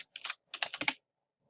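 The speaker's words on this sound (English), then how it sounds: "I'm going to type in the title of structure of an atom" Typing on a computer keyboard while entering a title, short bursts of quick, close key clicks in two clusters with a pause between, then quiet.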